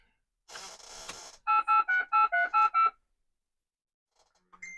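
Touch-tone telephone dialing from a Commodore 64 phone dialer program: a short hiss, then six evenly spaced, clear dialing tones in quick succession, close and alone.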